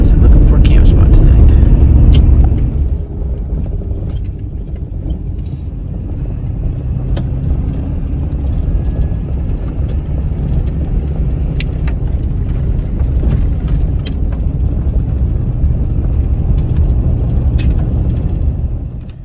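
A car drives dirt roads at night while searching for a camp spot, giving a loud, steady engine and road rumble throughout, heaviest in the first couple of seconds before settling to an even drone.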